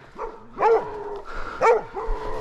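Hunting dogs on a wild boar hunt bark in the distance, a few spaced barks and yelps with no one speaking.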